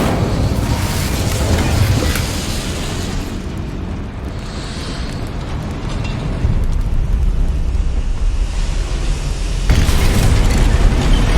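Incendio fire spell cast in the Hogwarts Legacy video game, heard as a sustained roaring, crackling burst of flame that fills the scene loudly and steadily, swelling again near the end, with no talk.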